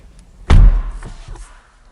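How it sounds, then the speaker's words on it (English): A BMW i8 Roadster door slams shut with one loud, close thud, followed by a couple of faint rattling settles as it latches. "Let's close this door."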